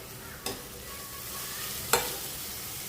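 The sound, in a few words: coriander sautéed in tempering for prawn masala, sizzling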